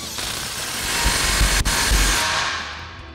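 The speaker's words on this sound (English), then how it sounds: "we'll use our 15 millimeter socket on our impact" Impact wrench with a 15 mm socket tightening an exhaust clamp on a Ford F-150 EcoBoost, loud continuous rattling buzz up close with a brief dip midway before trailing off.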